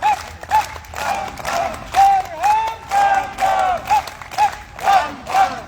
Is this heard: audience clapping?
yes